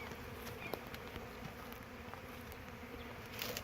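Honey bees buzzing in an abandoned hive being requeened, a faint, steady low hum from a small number of bees nearby with occasional soft knocks and rustles of handling.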